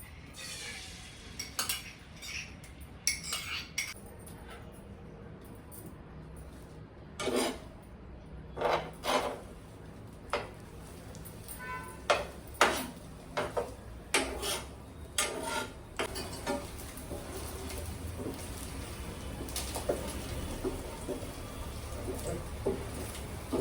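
Metal spatula scraping and chopping through egg fried rice in a hot pan, with a series of sharp, irregular clinks and rasps over a low sizzle, fairly quiet and close.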